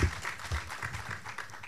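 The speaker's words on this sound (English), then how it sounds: "let's give another round of applause to Mrs. Degrasse-Delandes" Audience applause at a children's development conference, following a keynote on early childhood. The clapping is steady and broad but fairly quiet for its whole short length, with no speech over it.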